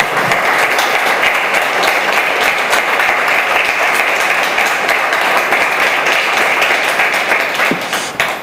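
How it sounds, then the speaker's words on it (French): Sustained applause from an audience at an art and ecology event with artists, loud and continuous dense clapping that holds steady for several seconds before tapering slightly at the end. "Vous pouvez l'applaudir."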